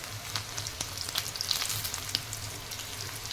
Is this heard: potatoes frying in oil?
yes